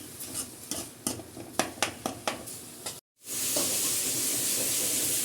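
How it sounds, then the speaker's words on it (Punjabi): Onion, tomato, green chili and garlic masala for bitter gourd being stirred and roasted in a pan: a ladle clinks rhythmically against the metal, then a brief gap gives way to a steady, close hiss and sizzle. "ਇਹਨੂੰ ਇਦਾਂ ਹੀ ਜਿਵੇਂ ਆਪਾਂ ਨਾਰਮਲ ਮਸਾਲਾ ਭੁੰਨਦੇ ਐਵੇਂ ਭੁੰਨਾਂਗੇ ਇਹਨੂੰ"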